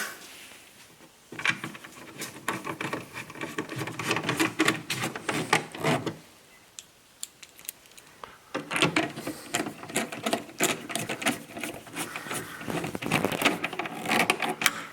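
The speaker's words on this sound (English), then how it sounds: "Now all we have to do is put the two screws back in." Two screws are driven back into the taillight assembly of a 2014 Subaru Forester, making two close bursts of rapid ratcheting clicks and rattles separated by a short quiet pause.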